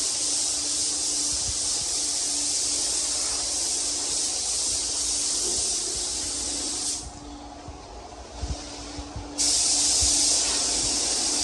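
Spray gun laying down a first coat of clear paint on a K5 Blazer, a steady loud hiss that cuts out briefly partway through and then resumes strongly.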